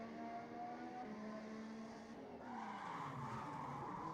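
F1 car in the Assetto Corsa racing game at the Chinese Grand Prix, engine note dropping under heavy braking into a corner with steady tire squeal and skidding, loud and continuous throughout.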